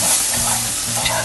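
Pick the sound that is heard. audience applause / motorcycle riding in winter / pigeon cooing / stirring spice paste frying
stirring spice paste frying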